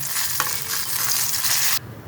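Eggplant pieces fry in hot oil with a loud, close, steady sizzle and a brief stirring scrape, cutting off abruptly near the end.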